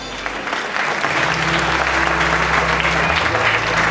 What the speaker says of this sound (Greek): παρακαλώ για το χειροκρότημά σας